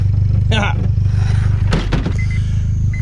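A right-hand drive Honda CR-V conversion, jump-started from another vehicle, sits running with a loud, steady low engine drone close by, as a couple of clunks and a voice cut in briefly over it.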